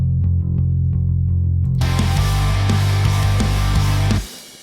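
Pop punk band mix with a heavy, muddy, overly wide sub bass, entering abruptly after a thinner opening; loud, dense distorted guitars and drums continue to the end, then cut off.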